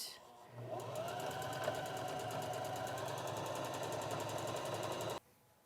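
A sewing machine runs a zigzag stitch on a boatneck top, a close, steady rapid mechanical chatter lasting about five seconds before it stops abruptly.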